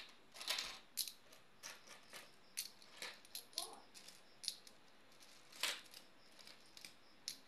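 Coins are handled and dropped at a small shop counter, with faint, scattered metallic clinks and jingles arriving irregularly, close by in a quiet room.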